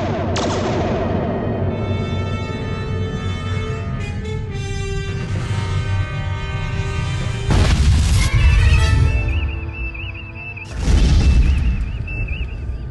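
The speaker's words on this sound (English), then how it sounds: "At this range, the blast will impact us as well." Photon torpedo blasts from a Star Trek battle boom out in heavy, loud bursts, with a long rumbling explosion opening the scene and further booming impacts cutting in around the middle and near the end.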